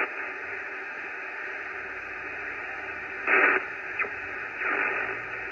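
A homebrew superhet transceiver tuned to the 12 meter band hisses with steady receiver static, a band-limited rushing noise broken by a few brief louder crackles and bursts, with no voices.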